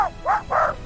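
Three quick barks from a dog in an animated story, the last one longer, loud and close with no other sounds around them.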